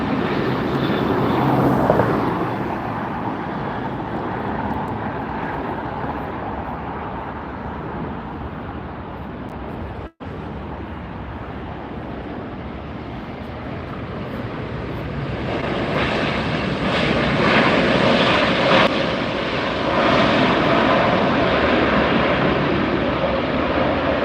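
A United Airlines passenger jet at LAX roars loud and steady as it passes near, its engine rumble filling the scene and swelling again toward the end.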